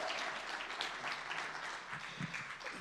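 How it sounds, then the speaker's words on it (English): Audience applause for leaders at a system leadership event, a steady wash of many hands clapping at moderate level for about three seconds, with faint voices and a brief cheer underneath. "can we give a huge round of applause"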